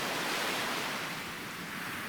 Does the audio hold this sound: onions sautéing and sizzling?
no